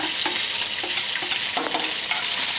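Egg pickle ingredients frying in oil give a dense, bright sizzle throughout, with a few light stirring scrapes, close and fairly loud, no voices.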